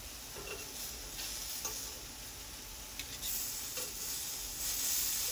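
Shrimp fry in a pan for tacos, a steady close sizzle and hiss with occasional stirring scrapes and small pops, no one speaking.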